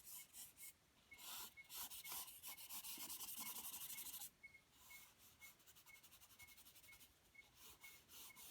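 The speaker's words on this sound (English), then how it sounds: "I'm also going to use eraser to pick out some of the lighter tone on the hair" An eraser rubs on a charcoal drawing in quick, close scrubbing strokes, one dense burst of rubbing and then lighter rhythmic strokes.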